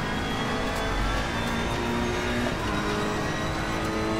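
A race car engine drones continuously and loudly through a lap in Assetto Corsa Competizione, a dense unbroken roar with no talk.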